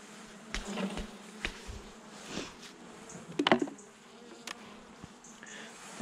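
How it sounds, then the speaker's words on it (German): Honeybees at an opened hive during a November inspection give a soft, continuous buzz at close range, broken by scattered knocks and scraping taps from handling the frames, with no talking. "Die Bienen hier werde ich nur reinschlagen, weil die Wabe möchte ich eigentlich nicht mitnehmen."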